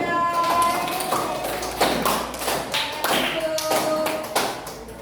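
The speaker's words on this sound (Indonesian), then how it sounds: "Oke, tepuk tangan dulu untuk kelompok 3." Classroom applause for a student group, with uneven, loose clapping rising in a few bursts over several seconds, moderately loud and close.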